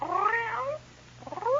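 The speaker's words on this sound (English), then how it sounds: "he bent over and picked up a little gray cat" A little gray cat meows twice in a radio drama. The first cry is a drawn-out, wavering mew; after a short pause comes a shorter, rising meow, both close and clear over a faint steady hum.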